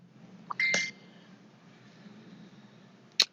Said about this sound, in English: let me turn off my phone because it's blinging like crazy